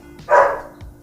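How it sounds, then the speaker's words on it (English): A single short dog bark sounds indoors at moderate distance, a loud burst followed by a faint softer yip. "My dog is barking."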